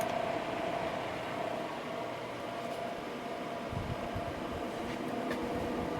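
Window air conditioner, 6,300 BTU, set to cool mode with the compressor not yet running, a quiet steady fan hum and airy hiss holding at an even level, heard alone with a faint low rumble partway through.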